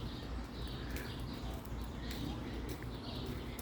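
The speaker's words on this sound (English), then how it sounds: "when the birds are making noise like this" Birds chirp and call in scattered bursts in the evening over a steady low outdoor rumble, fairly faint and distant.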